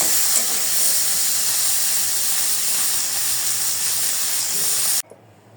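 Garlic and dried fish frying together in a pan give a loud, steady broadband hiss and sizzle that holds without a break, then cuts off abruptly near the end.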